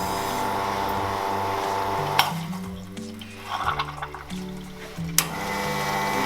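An Expobar espresso machine flushes water through its group head during a cleaning cycle, a hissing, gurgling rush with pump hum and a couple of sharp clicks, steady and close with no talk.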